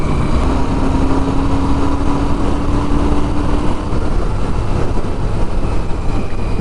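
Royal Enfield Super Meteor 650 motorcycle pulling hard on a highway, a loud continuous broadband roar of engine and wind rush, steady and close throughout with a faint rising engine tone.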